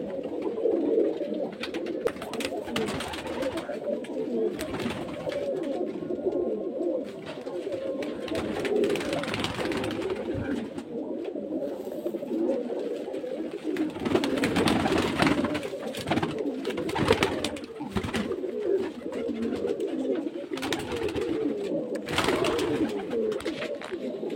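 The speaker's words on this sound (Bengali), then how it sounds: "এই যে দেখতেছেন পায়রা, অনেক পায়রা আছে" Many Giribaz pigeons coo together in a loft, a dense continuous chorus of overlapping low throaty calls that stays steady and close throughout, with occasional wing flutters and sharper noises breaking through.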